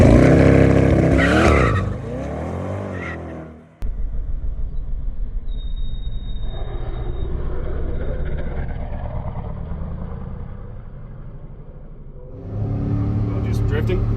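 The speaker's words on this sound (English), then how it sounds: "doing a slightly softer launch, better matching for the conditions, you actually get a faster and quicker acceleration off the line" A 2024 Chevrolet Corvette E-Ray hybrid with all-wheel drive launches off the line, its engine winding up loudly before a sudden cut, then a long steady drive hum and a rising roar at the end, with someone talking early on.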